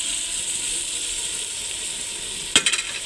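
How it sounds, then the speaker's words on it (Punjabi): Yogurt goes into a sizzling masala with boiled chickpeas for a white pulao, giving a steady hissing fry throughout, then a brief clatter of several quick knocks near the end. "ਚਨੇ ਨਾ ਅਸੀਂ ਉਬਾਲ ਕੇ ਰੱਖਿਆ ਤੇ ਇਹਨਾਂ ਨੂੰ ਦਹੀਂ ਪਾ ਦਿੰਦੇ ਹਾਂ ਵਿੱਚ"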